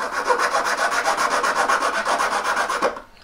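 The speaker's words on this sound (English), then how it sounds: "Now we're going to file this flat as well." A metal end link being filed flat gives quick, even rasping strokes, about six per second, close and loud for roughly three seconds before stopping.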